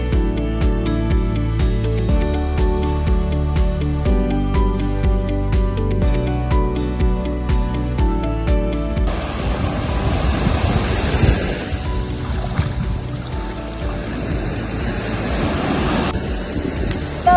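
Ocean waves wash onto a beach in Maluku as a steady broadband surf roar, rising in fuller rushes partway through and continuing without pause.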